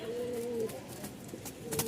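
Breeding pigeons in a crowded loft in Dhaka give soft, low cooing, a couple of drawn-out murmuring calls with a quieter one at the end, faint against a light background hum.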